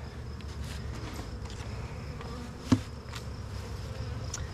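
A swarm of honeybees hums around a beehive in a continuous close drone, with individual buzzes passing near and one brief knock partway through.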